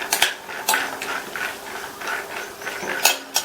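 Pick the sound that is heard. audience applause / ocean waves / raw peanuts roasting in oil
raw peanuts roasting in oil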